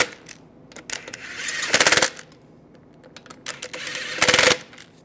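Bolts on a 2006-2009 Mercedes-Benz E350 being tightened during a headlight replacement: two separate bursts of rapid, rattling clicks from a power ratchet, each lasting about a second, with quieter gaps between them.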